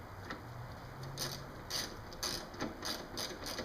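A hand ratchet clicks in repeated short bursts, tightening small 10mm bolts on a rear underbody spoiler, close up and fairly quiet against a faint low hum.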